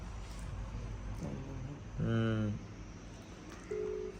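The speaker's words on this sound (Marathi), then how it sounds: "आता एका मिनिटात स्वीटीला फोन लावतो" A mobile phone plays a few short dial or keypad tones while a call is placed, standing out clearly over a steady background hum in a home setting.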